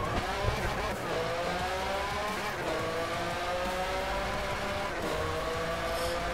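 A Ferrari engine revs and shifts through gears in the DRIVECLUB racing game, its whine rising and falling repeatedly as the car drifts through a corner, with loud tire squeal running under the engine.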